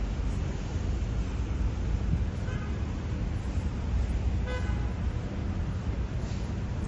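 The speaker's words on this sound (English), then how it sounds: "There's traffic everywhere." Montreal street traffic during a heavy tropical rainstorm, with a steady wash of rain and road noise and two short car horn toots sounding some distance away.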